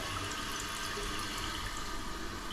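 Water rushing steadily into a toilet tank through its fill valve during a repair, a constant hiss that stays close and fairly loud for the whole stretch.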